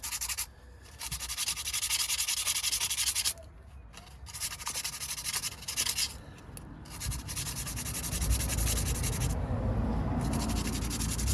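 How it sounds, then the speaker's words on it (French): Sandpaper rubbed by hand on a Peugeot 206 part, a close, continuous scratchy rasping in repeated strokes with brief pauses between bursts. "c'est un petit coup de papier à poncer vite fait quand même"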